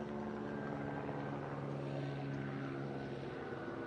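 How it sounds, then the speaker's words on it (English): A helicopter flies overhead at Venice Beach, California, its steady droning rotor and engine hum filling the scene continuously at moderate distance with a constant tonal whine and no talk over it. "I hear a helicopter."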